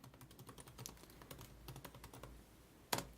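Rapid keystrokes on a computer keyboard while entering notes into CRM software, close and fairly quiet, coming in uneven bursts and ending with one sharper key press.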